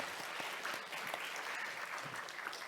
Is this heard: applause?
yes